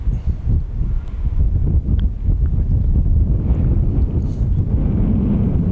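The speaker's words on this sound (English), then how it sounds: "the wind, as you can tell, it was probably blowing 20 miles an hour" Strong wind of about 20 mph blows across a golf course, a steady low buffeting roar against the microphone that fills the whole stretch with no voices.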